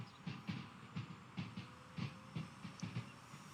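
Pendolino train rolling over track joints at Crewe station in Train Sim World 6, a steady, faint clickety-clack of paired wheel thumps repeating evenly over a soft rail hiss.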